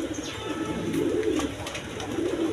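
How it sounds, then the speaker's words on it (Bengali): A pair of large green-necked Giribaz high-flying pigeons, male and female, cooing softly at close range with a steady low murmur and faint background noise. "এক পেয়ার আপনার বাঘা সবুজ গলা গিরিবাস কবুতর আছে, হাই ফ্লাইং কবুতর দেখেন"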